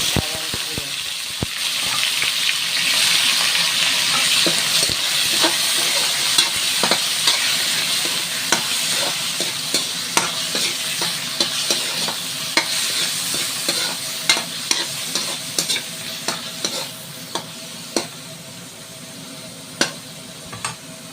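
Garlic and onion sauté in a hot pan for chicken sotanghon soup, a steady sizzle broken by frequent sharp clicks and scrapes of a utensil stirring against the pan.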